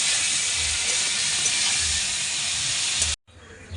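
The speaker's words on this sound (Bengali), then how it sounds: "ফুলকপিগুলো কিন্তু বেশ ভালো করে লাল লাল করে ভেজে নেব" Cauliflower florets with salt and turmeric fry in hot oil, a loud, dense, hissing sizzle that holds steady and then cuts off abruptly near the end, followed by quieter background.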